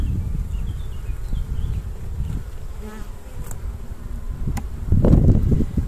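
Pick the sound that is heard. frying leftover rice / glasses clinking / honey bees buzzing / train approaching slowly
honey bees buzzing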